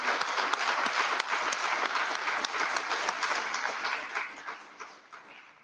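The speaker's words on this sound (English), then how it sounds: "please join me in giving our panelists and our students who ask questions a warm round of applause" A university room full of people applauds panelists and students after a music discussion, warm, evenly packed clapping that gradually fades and thins toward the end.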